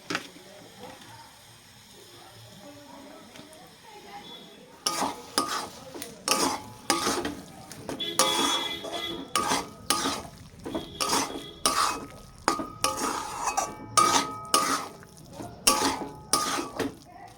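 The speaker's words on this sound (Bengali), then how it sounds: "তো এবার একটু ভালো করে নাড়াচাড়া করবো" A spatula stirs and scrapes spicy semolina with mixed vegetables and coriander in a metal pan, producing rapid rhythmic clanks and scrapes over a soft sizzle after a quieter start, close and loud, without speech.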